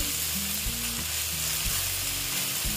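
Potatoes for an egg and potato curry frying and sizzling in a pan, a steady close hiss with periodic stirring scrapes and thumps throughout, no talking.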